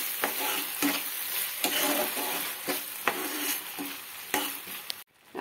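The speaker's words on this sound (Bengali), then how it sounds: "ফেটানো টক দইটা দিয়ে দিচ্ছি। এটা একটু জল দিয়ে দেব আর দইটা দিয়ে সবকিছু মশলার সঙ্গে একবার এভাবে নেড়ে নিচ্ছি।" A spoon stirs beaten sour yogurt into spice masala in a pan for doi katla, with a continuous loud sizzle broken by regular scraping strokes against the pan.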